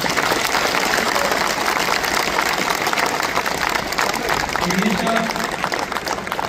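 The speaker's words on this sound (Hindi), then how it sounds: "इनके लिए भरपूर तालियां होनी चाहिए" Steady applause from an audience at a workers' union (CBA) gathering, a dense, continuous wash of clapping at close range that holds evenly throughout, with some voices mixed in underneath.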